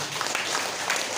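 An audience claps together at an indoor gathering, a dense, steady wash of applause filling the whole moment at close range.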